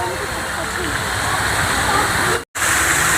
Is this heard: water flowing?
yes